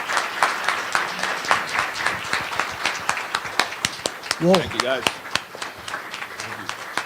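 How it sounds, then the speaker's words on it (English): A forum crowd at the Galveston Chamber applauds Texas State Representative candidates with brisk, close, sharp claps throughout, while a voice briefly speaks over the clapping partway through. "Let's give all these candidates a big round of applause"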